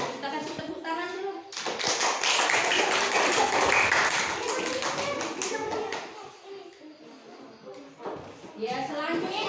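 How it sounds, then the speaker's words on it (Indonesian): Children in a primary school classroom applaud a group's discussion: a burst of dense clapping that swells and then fades over several seconds, with voices talking before and after. "Ya, kita kasih tepuk tangan dulu."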